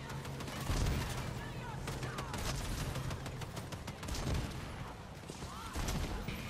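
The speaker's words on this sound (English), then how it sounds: "Some shooting nearby." Gunfire in an online shooter game crackles as scattered shots and bursts of varying distance, fairly quiet overall, with players' voices present in the mix.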